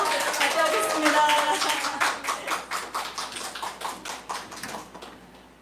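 A church congregation claps in a steady rhythmic beat, with a voice over the first couple of seconds, then separate claps that fade gradually toward the end.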